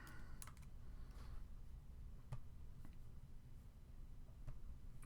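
Soft, irregular computer keyboard typing with scattered key clicks over a low background hum, fairly quiet and close.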